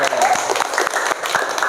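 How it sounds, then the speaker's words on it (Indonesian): Classmates in a high school classroom give a short burst of scattered hand clapping, close and fairly loud, with voices mixed in among the claps. "Oke, tepuk tangan boleh."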